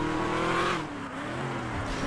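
Dodge Hellcat engine in a video game, a throaty car engine note that holds high, drops off, then settles to a lower steady drone, loud and close.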